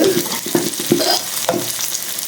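Garlic sautéing in hot oil in a pan for a paneer curry, a loud close sizzle broken by a few stirring scrapes and clinks, with no talking.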